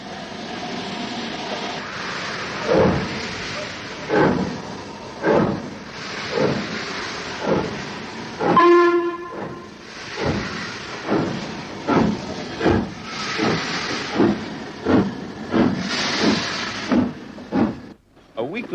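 An LMS Black 5 steam locomotive hauls a private hire train out of Marylebone, its exhaust beating in strong, evenly spaced chuffs that quicken slightly, with a brief whistle-like tonal burst midway and a soft hiss throughout.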